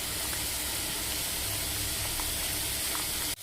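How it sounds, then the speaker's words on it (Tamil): Okra sambar bubbling hard in a clay pot, a dense, steady hiss of boiling and steam with faint pops throughout, close and continuous until it cuts off at the end. "சாம்பார் நல்லா கொதிச்சுக்கிட்டு இருக்கு"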